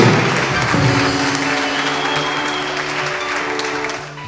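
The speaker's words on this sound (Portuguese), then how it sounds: "Será que você pode aplaudir ao Senhor mais uma vez?" A church congregation claps together in a burst of applause, loud and sustained at first and then slowly thinning out, with a few thumps and taps mixed into the clapping.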